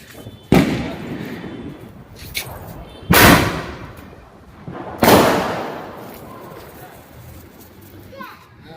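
Diwali firecrackers go off at a family celebration as three sharp, loud bangs spaced a few seconds apart, each ringing out briefly, while children chatter and play in the background.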